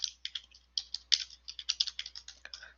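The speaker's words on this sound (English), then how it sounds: "just typing here." Close, quiet typing on a computer keyboard, a brisk irregular run of crisp key clicks with no voice over it.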